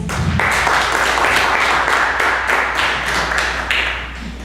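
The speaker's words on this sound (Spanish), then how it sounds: "Brindémosle un fuerte voto de aplausos al doctor Carlos Dávila Rojas." Audience applause for Dr. Carlos Dávila Rojas at an academic event, a loud, steady burst of clapping that carries on for several seconds before easing slightly at the end.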